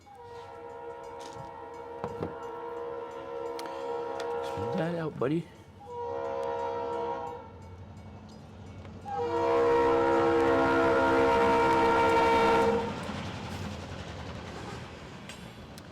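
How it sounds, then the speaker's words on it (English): A train horn blares in several long, loud blasts, with rail clatter and someone briefly talking in between. "the train coming, honking the horn"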